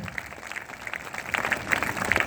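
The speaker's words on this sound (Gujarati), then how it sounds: "એમના માટે આપણે જોરદાર તાળીઓ પાડશું." A church congregation claps in faint, scattered applause that builds slightly toward the end, heard from a distance with no talking over it.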